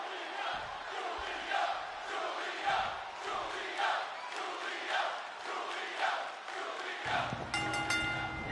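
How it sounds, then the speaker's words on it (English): Arena crowd in the WWE 2K26 wrestling video game, a loud continuous roar of cheering and chanting with rhythmic swells throughout, joined near the end by a brief tonal sting. "The crowd getting behind Giulia as these two go right at it"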